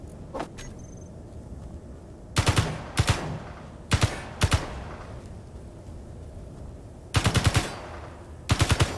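Rapid automatic gunfire from Space Engineers comes in short sharp bursts of three or four shots, loud and close, with quiet gaps of game hum between them.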